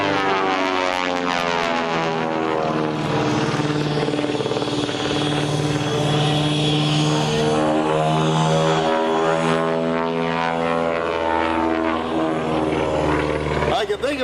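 A Beech-18 propeller airplane drones loudly overhead at an airshow, its engine tone rising and shifting as it passes, with voices audible underneath.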